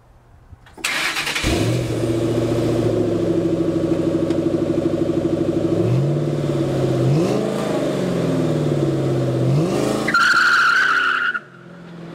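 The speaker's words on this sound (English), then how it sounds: "I have a 300 horsepower muscle car, a Mustang." A 300-horsepower Ford Mustang muscle car revs loudly at close range, its engine note rising and dipping for several seconds before tyres skid and squeal near the end.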